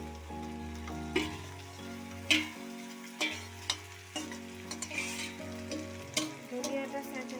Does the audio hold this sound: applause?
no